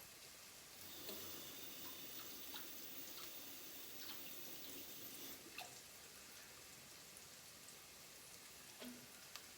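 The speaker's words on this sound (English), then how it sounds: "we're going to add some water to our pot here" Steady broadband rush of water pouring from a tap into a pot, continuous for several seconds with a few faint clinks.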